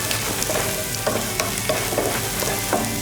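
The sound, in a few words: onions sautéing to golden brown in a pan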